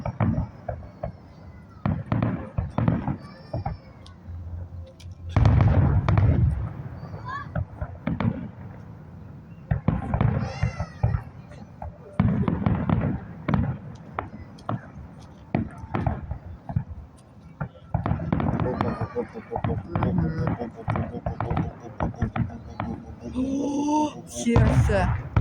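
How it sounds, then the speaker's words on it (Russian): Fireworks at a fireworks festival in Cheboksars, 2023, heard as repeated booming bursts and crackling pops throughout, loud and fairly near, with crowd voices and talk mixed underneath. "Фестиваль фейерверков."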